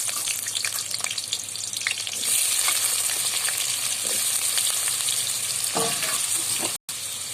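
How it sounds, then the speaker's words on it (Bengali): Potatoes frying in hot oil in a wok for a Bengali dhokar tarkari, a steady loud sizzle with scattered crackles and spatters, close and continuous with no talking. "তেল গরম হয়ে গেছে, আলুটা দিয়ে দেবো।"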